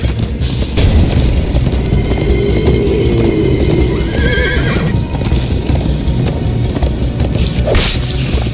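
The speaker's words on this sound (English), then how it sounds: "First time on a horse here." Horse hooves galloping loud and fast in Minecraft: Story Mode, a dense rhythmic clatter mixed with a whinny, whooshing rush and game effects, with no talk.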